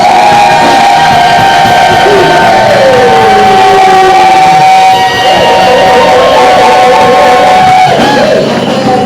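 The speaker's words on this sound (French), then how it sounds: "Est-ce que tu peux encore pousser des cris de joie?" A church congregation at an evangelistic gathering raises loud, sustained shouts and cries of joy, a dense crowd roar that stays strong and near for the whole stretch, with a voice ringing out above it.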